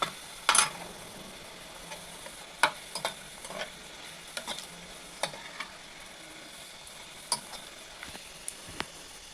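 Bitter gourd pieces fry in a pan for an Andhra-style dish, with a faint steady sizzle under sharp, scattered scrapes and clicks as a spatula stirs them every second or two.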